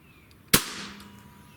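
One sharp, close crack as the trigger of an AEA Challenger Pro regulated PCP air rifle breaks during a Lyman trigger gauge test, followed by a short hissing decay. There is no talking.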